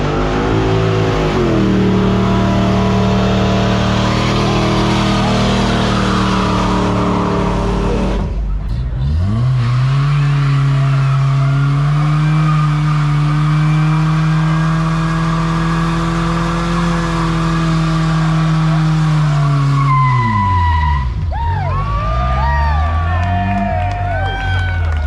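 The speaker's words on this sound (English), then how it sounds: "this looks like an awesome place to watch burnouts" Hot rod cars rev hard and roar through burnouts at an outdoor gathering on a power tour, engines loud and sustained with pitch sweeps as they rev, under crowd noise and voices.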